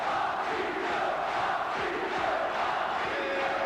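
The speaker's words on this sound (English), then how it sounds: "Patricio, the name they have given him here in Italy, is being chanted by this enthusiastic crowd in Livorno" An enthusiastic crowd in Livorno, Italy chants a boxer's nickname at a boxing match, a loud, rhythmic, sustained roar with repeated pulses.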